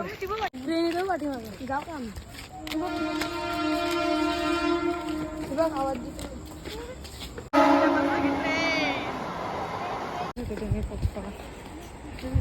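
A train horn blares loud and sustained for several seconds at Nilje railway station, with voices talking before and after it.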